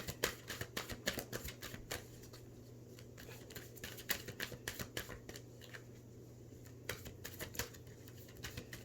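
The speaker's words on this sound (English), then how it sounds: "I'm going to pull 3 healing cards," Tarot healing cards shuffled and pulled, a quick patter of card riffles and snaps in repeated bursts, close and fairly quiet, over a steady low hum with no talking.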